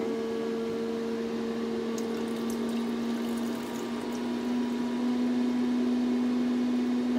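Distilled water poured into the tank of a laser cutter's cooling setup, a soft trickling pour heard under a steady humming pump and a higher electrical whine.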